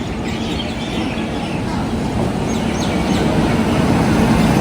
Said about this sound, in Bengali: স্টেশনে ঢোকার অল্প সময়ের ভিতরেই কিন্তু ট্রেন এসে গেল